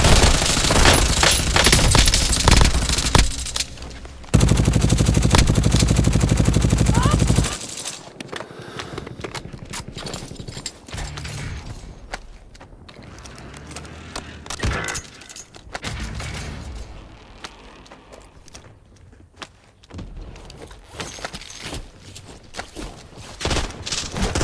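Gunfire in Call of Duty Warzone, loud dense bursts of automatic fire and rapid shots, a heavy sustained barrage at first, then scattered sharper shots and booms at varying distance.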